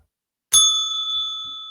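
A single bright bell ding strikes after half a second of silence and rings on with a clear, slowly fading sustained tone, alone and close.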